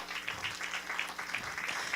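Church congregation applauding together, a steady even patter of many hands that fills the whole short stretch at moderate loudness.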